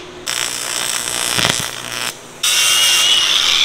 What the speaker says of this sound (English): we're using our pipe clamps here to clamp this up in two directions